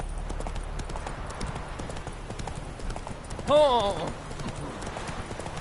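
Roach the horse gallops in The Witcher 3: Hearts of Stone, a rapid, continuous clip-clop of hooves throughout, with a short whinny midway and a man's brief exclamation.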